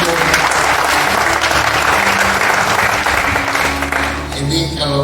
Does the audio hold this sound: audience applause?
yes